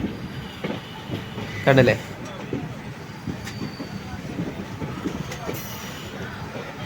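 A passenger train rolls into Tiruchirappalli junction, its steady low rumble and wheel clatter heard from on board, with a brief loud squeal early on and a voice speaking over the noise.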